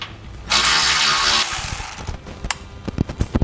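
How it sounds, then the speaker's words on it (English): Ratchet with a 10mm socket loosening a ground bolt during a towed-vehicle wiring install: a sustained loud whirring burst, then a run of sharp, close metallic clicks and ticks. "Now to take that bolt out for our ground, I'm going to be using a 10mm socket."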